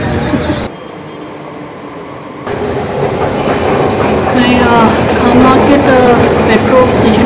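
A Delhi Metro train rumbles and rattles steadily at a station, the noise building louder as the wheels clatter along the track.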